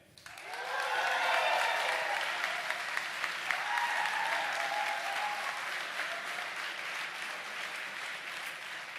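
A large audience bursts into applause for a DJ and musical guest at a live event, starting abruptly and holding as a dense, loud wash of clapping with a few cheers for about eight seconds.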